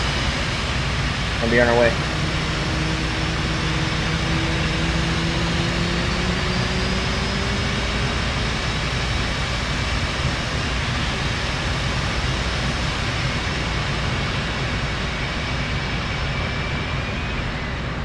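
An F/A-18 jet engine runs inside DCS World, holding a steady, even roar for the whole stretch, with a brief voice speaking near the start.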